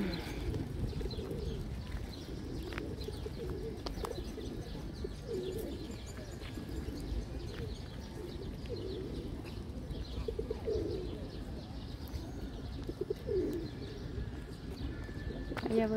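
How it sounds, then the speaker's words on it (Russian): Many pigeons coo steadily in a city park in Dnipro, Ukraine, with low murmuring calls overlapping throughout alongside occasional chirps from other birds and a faint rustle of wings. "Покажу вам, что здесь очень много голубей."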